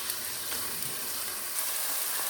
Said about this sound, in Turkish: Soğanımı çok az kavurdum.